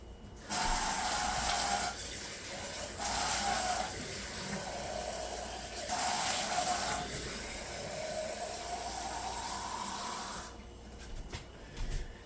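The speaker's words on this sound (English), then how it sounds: "get some hot water." Hot water runs from a kitchen tap while sourdough starter is being made, a steady close hissing splash that swells and eases several times as the flow changes, then cuts off near the end.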